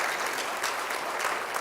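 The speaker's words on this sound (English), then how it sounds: "Ladies and gentlemen, permit me to request another round of applause for the DG." A full audience applauds the DG with a dense, even wash of clapping that holds steady throughout, with no voices over it.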